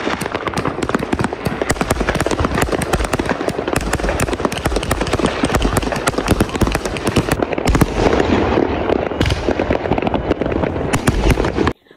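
Midnight New Year firecrackers and fireworks burst in rapid, overlapping volleys close by in a snowy outdoor setting, a loud, continuous crackle and bang that ends abruptly near the close.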